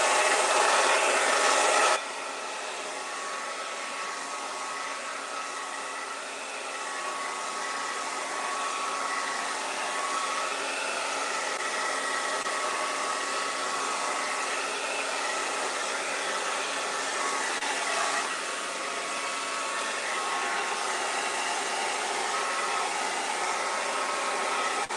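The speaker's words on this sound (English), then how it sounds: "I'm gonna break out the hairdryer really quick just to get this where it, you know, nice and dry." Hair dryer switched on after a brief muffled start, blowing air to dry paint on a Halloween gnome: a steady loud whooshing hiss that runs continuously with only slight shifts, no talk over it.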